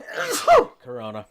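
A single sharp human sneeze bursts out midway, loud and close, with a voice speaking just before and after it.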